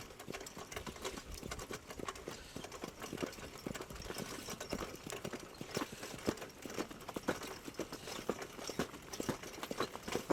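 A racehorse's hooves walk on a training track in a steady, even clip-clop rhythm, continuous and fairly close throughout.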